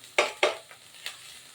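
Preserved radish is stir-fried in a pan until dry, heard as a few sharp scraping strokes of a utensil against the pan over a faint sizzle, close and without talk.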